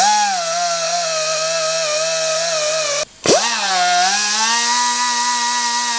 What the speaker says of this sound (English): take a little grinder with a Scotch-Brite pad or something similar, clean up this area